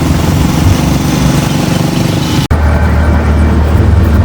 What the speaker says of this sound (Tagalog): ramdam na ramdam mo yung balansingan ng makina ng motor. Kulang sa valve clearance adjustment dito.